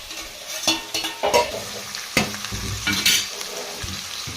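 Broad beans curry frying in a pan with onions, green chillies and tomatoes, close sizzling with repeated scraping stir strokes and small clatters in an uneven rhythm, fairly loud, no talking.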